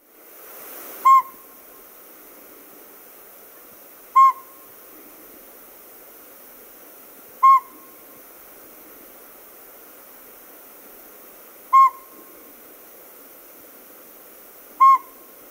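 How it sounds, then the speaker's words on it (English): A small northern pygmy owl gives single clear, close hoots spaced a few seconds apart, five in all, each evenly repeated over a faint steady background hiss. "It is a small owl. It's the northern pygmy owl."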